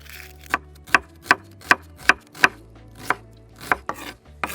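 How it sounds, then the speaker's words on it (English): A knife chops onions on a board in a village kitchen, making about ten crisp, close knocks in a fairly regular rhythm, with no talking. "Let's chop up the onions, get them ready."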